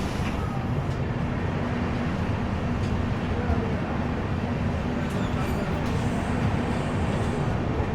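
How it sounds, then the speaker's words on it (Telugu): A Santragachi–Chennai Central biweekly AC superfast express, train 2280, rolls out of Balasore station with a steady, loud broadband rumble and a faint low hum throughout, and talk is heard over it. "మన ట్రైన్ బాలేశ్వర్ నుంచి అయితే బయలుదేరిపోయింది"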